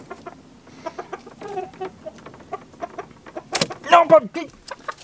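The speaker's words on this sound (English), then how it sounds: "Chickens." Chickens cluck and squawk in short, scattered calls nearby, with a louder burst of squawking near the end.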